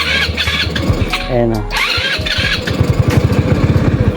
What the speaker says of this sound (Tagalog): maaktuhan natin na hard starting na yung motor niya